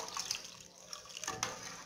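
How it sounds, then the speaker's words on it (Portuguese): Water poured into a pot of mocotó (cow's foot) broth with cartilage, a soft, faint running splash with a few brief drips, close by in a kitchen. "Eu vou colocar mais um pouco de água aqui"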